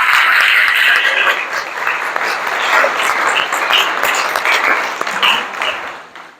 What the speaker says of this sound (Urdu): یسوع مسیح کے لیے زوردار تالیاں ہو جائیں۔